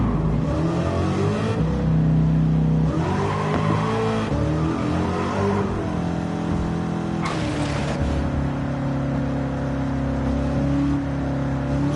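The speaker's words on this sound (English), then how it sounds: "these cars get loud" Loud car engines rev and roar up and down in long surging pulls, with a whirring drone sustained between bursts and no talking.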